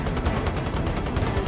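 Rapid gunfire strafes the player in the Warzone video game, a dense, loud burst of repeated shots spread across a second and a half with no talk over it.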